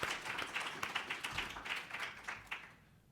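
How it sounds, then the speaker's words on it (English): A conference audience gives a brief round of applause for a panel on global heart health, a faint, somewhat distant patter of clapping that fades out near the end. "Ladies and gentlemen, your panel, round of applause, please."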